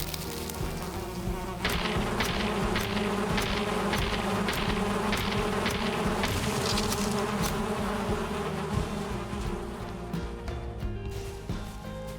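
A bee nest in the Valheim video game gives off a continuous insect buzz, a loud, steady drone of many bees with a fluttering texture and small swells. No voices are heard over the buzzing.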